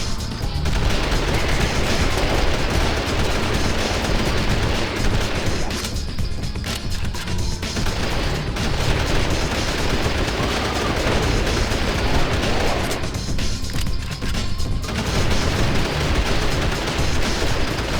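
Continuous dense automatic gunfire from a machine gun in the action game Hunter: The Reckoning, a loud unbroken roar of rapid shots with crashing impacts layered throughout, easing slightly in two short gaps.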